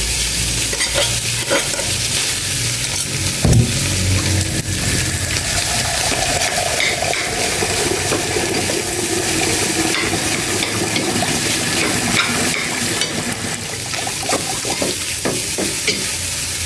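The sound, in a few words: fried rice being stir-fried in a pan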